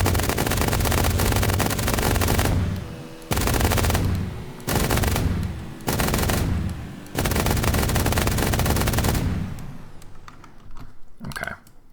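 Simulated rotary gun in Unreal Engine firing at 6,000 rounds per minute, a dense, continuous roar of shots in several long bursts with brief gaps, loud and close, the rapid fire glitching and smearing together before fading out.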